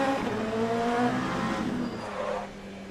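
LMP2 prototype race cars run side by side at Portimao in the sim racing game Le Mans Ultimate, a sustained high engine drone with shifting pitch and faint tire scrub, fading slightly at the end.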